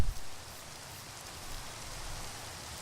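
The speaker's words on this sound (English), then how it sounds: "Oh, I don't like the rain." A soft, steady hiss of falling rain in Minecraft, continuous and even, after a brief thump at the very start.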